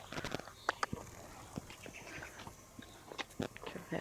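Hooves clop unevenly on soft ground, a horse with a marked weakness in the left hind leg walking nearby with irregular thuds and a few sharper knocks, quiet and close.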